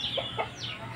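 A Burmese or Thai chicken clucks on a poultry farm in Cianjur, West Java, Indonesia, giving a few short, quick clucks and a rising squawk over a low farmyard background hum.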